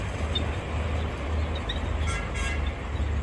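A miniature train runs at a cafe in Pathum Thani, giving a steady low rumble with light clanking and faint high squeaks and chirps above it, continuous and close, with no talking.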